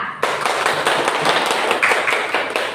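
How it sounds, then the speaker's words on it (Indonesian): A classroom of pupils claps for a classmate in a short, steady burst of close, dense applause. "Beri aplaus untuk Ria."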